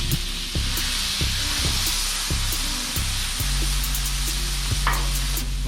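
Mixed vegetables sizzling in a hot pan for shrimp fried rice, a loud, continuous frying hiss broken by repeated scraping stir strokes, with no talking.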